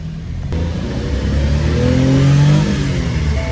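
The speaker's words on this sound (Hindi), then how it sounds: "तो इसकी भी टेस्ट ड्राइव ले रहे हैं गाड़ी की" A Suzuki Every van with a freshly overhauled engine, new valves, guides and seats, revs and accelerates on a test drive, the mid-pitched engine note rising steadily and droning loudly close by.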